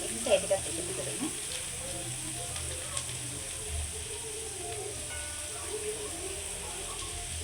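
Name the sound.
chicken frying in a pan for cheese kottu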